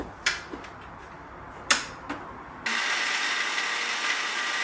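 Mixer grinder blending cashews, oats, dates, cocoa powder, peanut butter and salt: after a few light knocks of ingredients going in, the motor starts abruptly and runs as a loud, steady whirring grind to the end.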